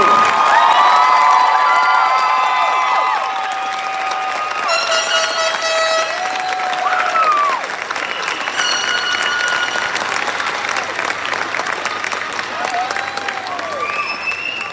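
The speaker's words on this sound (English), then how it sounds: "Please everyone join in a round of applause for the class of 2024." Loud, sustained applause and cheering fill a 2024 high school graduation ceremony for the Burgettstown Area class, with whoops and shouts rising over continuous clapping throughout.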